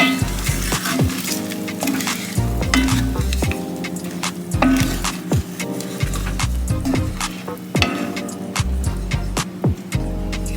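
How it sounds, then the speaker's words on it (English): A metal spoon scrapes and stirs across the bottom of a pot where beef short ribs were browned, loosening the seasonings; close, busy scraping and clinking over a steady sizzle, with no talk. "Now I'm just going to use my spoon just to kind of sort of scrape the bottom of the pot."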